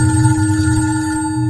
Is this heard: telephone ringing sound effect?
yes